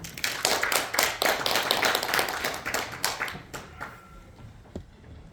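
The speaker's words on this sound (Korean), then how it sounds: "큰 박수 부탁드립니다" An audience at a national poetry recitation contest claps for a performer, dense close applause fading away over several seconds into a few scattered claps.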